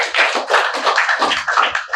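A small audience at a spiritual lecture claps, giving a dense, steady burst of applause that stays close and loud for about two seconds.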